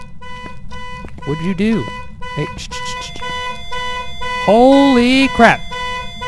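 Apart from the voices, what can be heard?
car alarm beeping in the video game Phasmophobia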